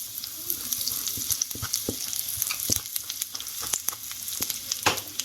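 Fenugreek seeds and asafoetida sizzling in hot oil for a tamarind curry with okra, a dense close crackle with sharp popping bursts and spatters, no voices.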